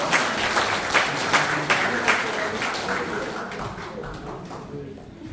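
An audience at a community welfare council award ceremony claps steadily throughout, a dense wash of hand claps with a few sharper accents near the start, gradually thinning toward the end.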